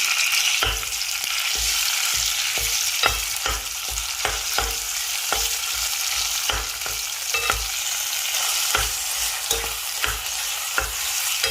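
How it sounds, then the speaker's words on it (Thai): Ready-made nam ngiao chili paste dry-roasts with minced pork in a pan, stirred briskly. Loud, continuous sizzling is punctuated by a steady rhythm of sharp spatula scrapes and taps. "น้ำพริกน้ำเงี้ยวสำเร็จรูปต้องคั่วก่อนนะคะ"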